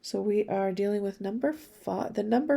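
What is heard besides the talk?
None of the usual background noises is heard.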